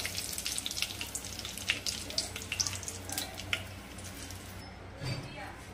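Three bay leaves hit about 100 grams of hot oil and crackle with sharp, bright pops over a continuous sizzle that settles down toward the end, close up.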